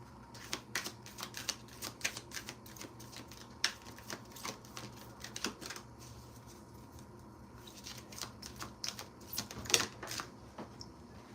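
Tarot cards are shuffled in soft, irregular riffles and flicks. The crisp clicks and light patter are quiet and close, with no voice over them.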